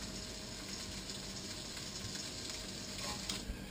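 Turkey burgers sizzle steadily while frying in a pan, a continuous close crackling hiss that holds an even level throughout with a few slightly louder pops near the end.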